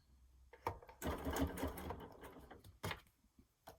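A sewing machine stitches quilting in short bursts, a close, rapid mechanical whirring with gaps and a few clicks between runs, fairly quiet overall.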